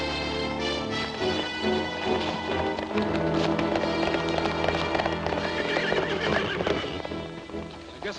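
Loud horse neighs and whinnies ring out over galloping hoofbeats and a dense orchestral film score, with the clip-clop running steadily throughout.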